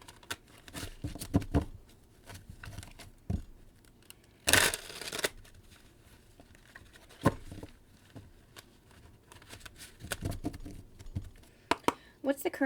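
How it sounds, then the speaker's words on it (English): Tarot cards are shuffled close up in several bursts of rapid riffling and flicking, with one loud riffle in the middle and quieter handling between. "One more shuffle."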